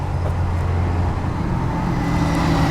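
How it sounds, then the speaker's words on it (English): A bus rumbles past at close range outside a music festival queue, its steady low engine drone and road noise filling the moment at full loudness without a break. "Waiting for the bus to go by."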